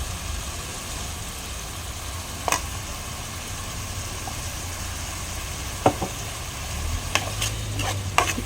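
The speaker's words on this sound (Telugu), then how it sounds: "ఇప్పుడు పేస్ట్ వేసుకుందాం ఈ పేస్ట్ కూడా బాగా మగ్గాలండి" Onion-tomato and ginger paste fries and is stirred in oil in a pan, a steady sizzling hiss with a low background hum and a few sharp spoon knocks toward the end.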